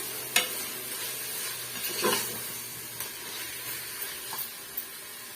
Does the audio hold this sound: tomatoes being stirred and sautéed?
yes